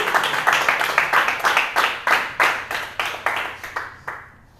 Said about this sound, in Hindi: जोर से ताली बजा के बताएं हालेलुया